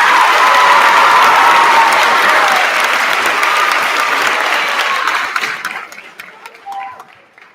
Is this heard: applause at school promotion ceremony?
yes